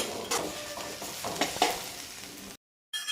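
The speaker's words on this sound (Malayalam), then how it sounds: "അപ്പോൾ നമ്മൾ പേസ്റ്റിൻ്റെ പച്ച ചുവ മാറുന്നവരെ ജസ്റ്റ് ഒന്ന് വഴറ്റി കൊടുക്കുക" Ginger garlic paste sautéing in a pan for beef perattu, a close steady sizzle broken by scraping stirs and clinks, then a brief cut to silence before the sizzle resumes.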